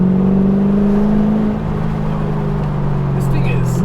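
V8 LS-swapped Mazda RX-7 FD engine holding a steady, loud low drone, its pitch dipping slightly midway and then settling at a lower tone.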